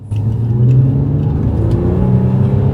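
A Nissan Skyline V35 with a naturally aspirated V6 and Fujitsubo tuned exhaust revs hard up close, its deep throaty exhaust note rising and holding steady, with a raspy tuned tone throughout.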